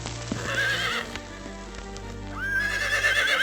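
Wild horses (baguales) in Torres del Paine, Patagonia, call out with a near, shrill neigh and whinny over soft outdoor ambience.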